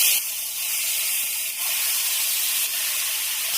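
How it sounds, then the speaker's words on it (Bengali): Chicken marinated in sour yogurt added to a hot kadai without oil, giving a steady bright hiss of sizzling and steam that holds close and loud, with a couple of brief dips. "আর এবার চিকেনটা দিয়ে দেবো।"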